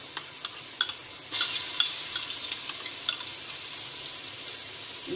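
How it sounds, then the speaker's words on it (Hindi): Garlic ginger paste hits frying onions in a pan for beef haleem, a bright, steady sizzle that jumps louder as it goes in, with occasional scrapes and taps of a stirring spoon. "और अब मैं ऐड करूंगी लहसुन अदरक का पेस्ट"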